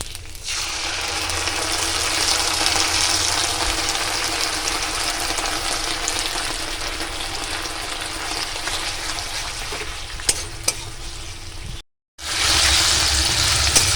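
Tomato sauce, soy sauce and chilli sauce paste fries in a hot wok for chilli chicken, a loud steady sizzle and hiss that runs on alone, breaks off briefly near the end, then returns.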